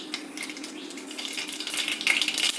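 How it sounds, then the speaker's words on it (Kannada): Mustard seeds sputter and crackle in hot oil in a pressure cooker for tempering, a steady close spray of tiny pops that grows busier and louder toward the end, with no talking. "ಎಣ್ಣೆ ಬಿಸಿಯಾಗಿದೆ, ಸಾಸಿವೆ ಹಾಕ್ತಾಯಿದ್ದೀನಿ"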